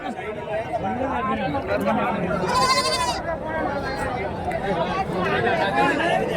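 Goats and young kids bleating at a busy livestock market in Karimangalam, Dharmapuri district, with calls rising over steady crowd chatter and people talking throughout.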